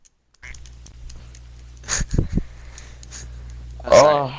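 A single voiced quack imitating a duck, sounding near and loud after a stretch of low hum and a few brief vocal noises.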